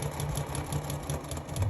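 A sewing machine top stitches along the side of a fabric garment, a close, steady mechanical hum with a rapid even needle rhythm for under two seconds.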